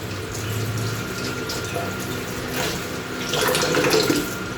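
Water runs steadily from a tap into a sink, with splashing and shifting as something is rinsed under the stream.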